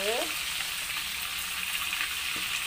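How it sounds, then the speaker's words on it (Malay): Steady, loud sizzling of food frying in hot oil, continuous crackle throughout with a brief scrape of stirring near the start. "Kita goreng sampai dia masak ya, garing ya."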